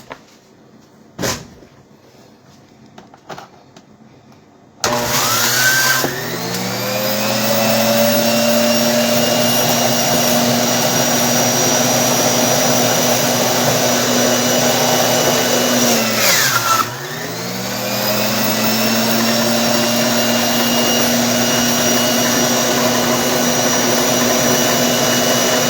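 Electric juicer separating pulp from juice: a few quiet clicks, then the motor starts with a loud, steady whirring drone that briefly bogs down and recovers partway through.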